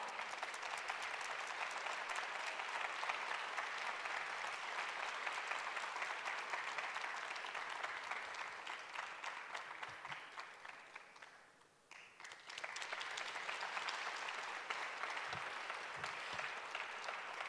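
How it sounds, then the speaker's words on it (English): Dense, steady applause from a forum audience at a closing ceremony after a performance by singing students. It fills the whole stretch, briefly thins and dips near the end, then swells back to full strength. "please give our talented students of Puropachi another big round of applause"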